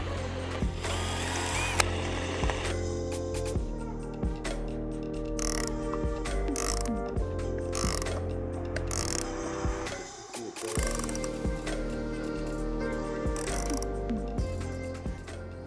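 A hand rivet nut tool clicks and ratchets repeatedly at close range while installing rivet nuts for a roof rack on a Ram TRX, steady mechanical cranking with small metallic clacks and a brief lull midway.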